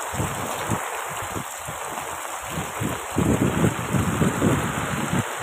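Heavy rain pours steadily in a narrow alley, a loud continuous wash with dense patter and drumming on nearby surfaces that swells louder toward the end, with no voices.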